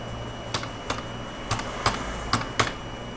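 A name being typed on a computer keyboard: six sharp, separate key clicks spread unevenly over a few seconds, close and distinct against a faint background hum.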